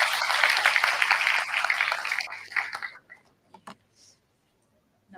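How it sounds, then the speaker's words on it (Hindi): Audience applause welcomes a speaker on stage at a World Environment Day and Menstrual Hygiene Day event, a loud dense burst of clapping that thins out and fades to a few stray claps and silence. "तो तालियों के साथ मैडम का स्वागत."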